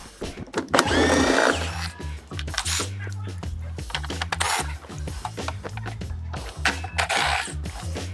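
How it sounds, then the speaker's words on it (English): A 5 mm Allen socket on a power driver removes body panel fasteners from an ES5 electric scooter, with short buzzing whirs and clicking between bursts, close by, with some background voice. "I'm going to go ahead and remove these fasteners from the top."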